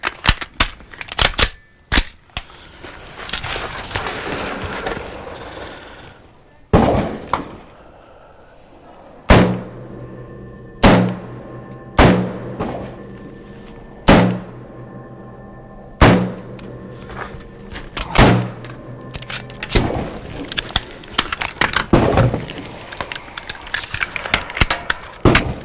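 Single shots from an HK MR556 A1 AR-15 rifle ring out at an outdoor gun range, sharp loud cracks spaced a second or two apart with brief echoes and lighter handling clatter in between.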